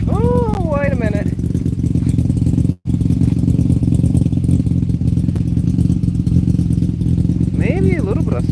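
A 1995 Mazda RX7 rotary engine runs after sitting through winter, giving a loud, close, steady idle rumble that continues throughout, with a brief cut partway and a voice speaking over it at the start and end.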